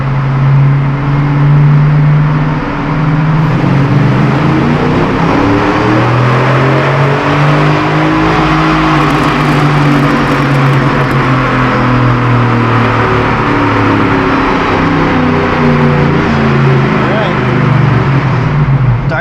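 A Chevrolet Silverado engine pulls at full throttle on a dyno, a loud, sustained roar whose pitch climbs and then levels off as it holds toward the soft limiter.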